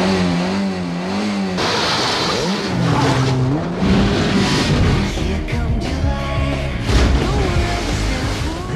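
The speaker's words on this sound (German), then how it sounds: "Ich setze einfach mit dem Auto rüber." A car in a film trailer races toward a ramp and jumps it, with engine revving and tire noise mixed under music and swelling effects throughout, loud and dramatic.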